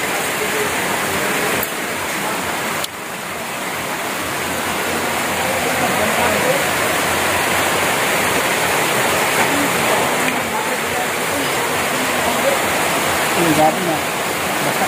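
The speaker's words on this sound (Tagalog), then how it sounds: "Yung lumakas naman ang ulan ay" Heavy rain pours steadily over a farm, a dense, even broadband wash of falling water that holds loud and close throughout, with no voices heard.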